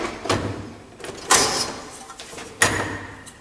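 Front door of a VESDA-E smoke detector being refitted, giving three sharp plastic clunks and clicks spaced about a second apart, each with a brief rattle afterward, with no talking.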